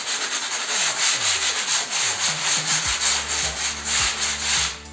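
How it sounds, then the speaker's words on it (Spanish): A sanding block rubs over acrylic stone-effect paint in repeated back-and-forth strokes, a close, loud, rhythmic scraping with no talking. "Un taco. Una lija. Con la lija pasa más rápido."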